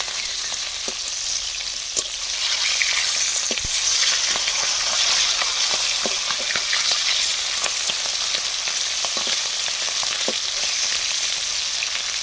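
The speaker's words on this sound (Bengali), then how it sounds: "এই যে মাছগুলো এখন ভাজা হয়ে গেছে তাই আমি উল্টো দিকটা উল্টে দিয়ে ভেজে নিচ্ছি" Pieces of hilsa fish fry in a pan after being flipped to the other side, giving a steady, close crackling sizzle with scattered sharp pops and spatter throughout, and no talking.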